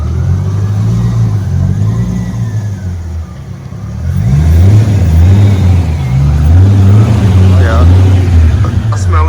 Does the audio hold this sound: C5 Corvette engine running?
yes